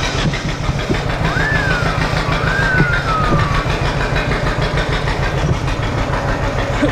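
A go-kart engine runs steadily and loudly throughout, a constant mechanical drone with a few brief whining tones passing over it, and no talk.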